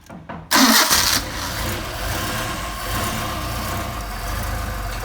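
A Mercedes 190SL engine fitted with Solex 44PHH carburetors catches with a sharp burst and settles into a steady, slightly uneven idle close by. No one speaks.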